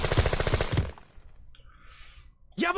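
A short burst of rapid automatic gunfire in the tactical game Jagged Alliance 2, loud and dense for about a second, then fading into quiet game ambience with a faint hiss and a sharp sound at the end.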